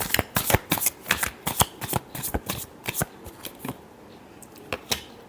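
Tarot cards are shuffled by hand in a quick series of crisp riffling bursts, with brief pauses between them and a few scattered flicks near the end, close and fairly quiet, with no talking.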